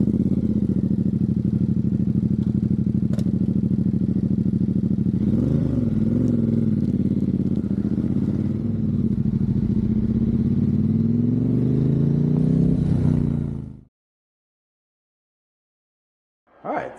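A motorcycle engine runs steadily and loudly up close, with rising revs and gear shifts partway through, then cuts out abruptly into silence for the last few seconds.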